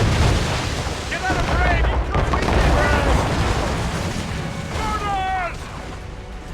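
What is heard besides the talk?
ship cannon fire from the video game Assassin's Creed Rogue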